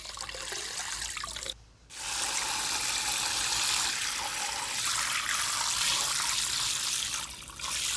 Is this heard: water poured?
yes